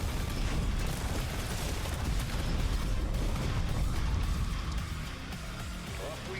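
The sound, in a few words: explosions up close in video game Tempest Rising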